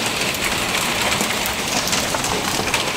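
Rain falls onto a metal railing beside an outdoor tent, making a steady close patter of drops and small ticks over a constant wash of rainfall, with no voices.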